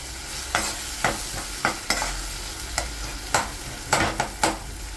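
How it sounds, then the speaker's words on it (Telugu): Ginger, green chillies and garlic fry in hot oil with a steady close sizzle, broken by sharp scraping stirs of a spatula against the pan at irregular intervals, no voices. "అందుకని ఒకసారి ఇది ఫ్రై అవ్వనివ్వాలి ఆయిల్లో"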